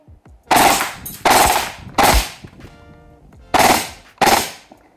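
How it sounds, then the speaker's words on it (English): A Vorsk VMP-1 airsoft gun fires on fully automatic in five short, loud, sharp bursts separated by brief pauses, with no talking. "I don't really want to accidentally pepper it with fully auto fire because we are now on fully auto"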